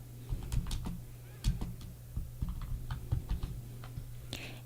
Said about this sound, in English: Simply type in his name, John Smith,